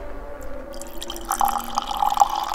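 Liquid trickles into a mixing glass in a quiet room, soft dripping and splashing that grows slightly louder over a couple of seconds.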